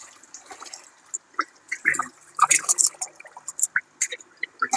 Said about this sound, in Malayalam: കുറച്ച് വെള്ളമൊക്കെ ഒഴിച്ച്.